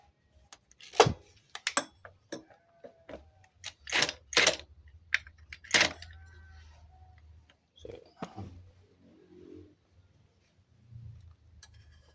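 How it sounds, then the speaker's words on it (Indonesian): Tightening the clutch nut on a Honda Grand/Supra motorcycle with a clutch holder tool gives sharp metallic clicks and taps, scattered irregularly with quiet gaps, close by. "untuk mengencangkan kita pakai kunci matahari seperti ini"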